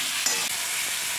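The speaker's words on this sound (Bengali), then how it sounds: "হালকা করে অল্প ভেজে নেব।" Pointed gourd and other vegetables fry in fish oil in a pan for a fish curry, a steady close hiss of sizzling with faint stirring scrapes and no voices.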